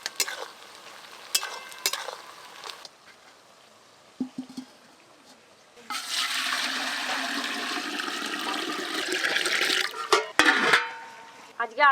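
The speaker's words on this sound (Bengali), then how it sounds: "এই 2 রকম মাংস জল দিয়ে খুব ভালো করে ধুয়ে নেব।" Two kinds of meat, mutton and chicken, are washed with water in a home kitchen, with running and splashing water over the meat. Scattered handling clatter comes first, then a sustained rush of water, close and moderately loud.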